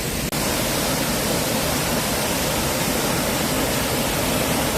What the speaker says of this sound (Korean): 천문폭포가 물수량도 많고 가장 멋지고 웅장한 폭포인 것 같습니다